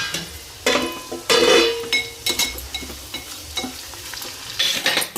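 Curry leaves for pulihora crackle and sizzle in hot oil while a spoon stirs and scrapes the pan in repeated bursts, close and fairly loud with no talking.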